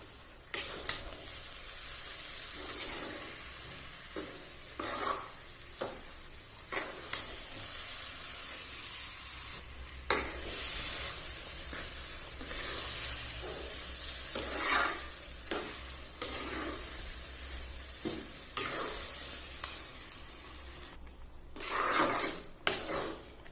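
Chana dal halwa stirred continuously in a pan, with repeated scraping strokes of a spoon against the metal over a low sizzle, close up and rhythmic throughout, no voices.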